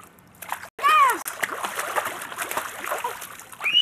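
Children splashing in water, close bursts of sloshing and splatter with a high child's shriek over it and more splashes after.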